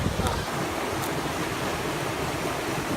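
Water rushing over a waterfall makes a steady, loud, broadband roar that fills the whole stretch without a break, close and continuous.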